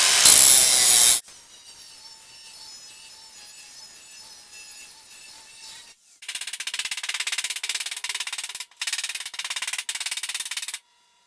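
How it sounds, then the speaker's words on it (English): A grinder works on a metal car door, starting with a loud harsh burst, then dropping to a low whine. It comes back as a rough, pulsing grind in two close bursts. "Now I'm going to grind the other side down."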